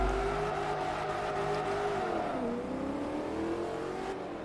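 A Chrysler muscle car in Forza Motorsport 3 with a steady, loud engine drone that holds its pitch and then dips briefly before climbing again as it revs, continuous throughout.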